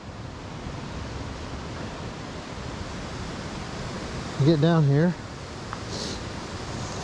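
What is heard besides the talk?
water pouring out at Virgin Falls waterfall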